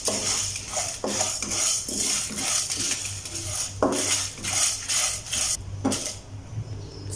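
Cumin seeds and three dried red chillies roasting in a pan, with a spoon repeatedly scraping and clinking against the metal in an uneven rhythm over a soft steady sizzle, close and fairly loud, no voices.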